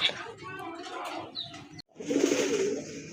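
Large red Raj Gola pigeons at a breeding farm coo in low, rolling calls close by, with someone talking over them at the start.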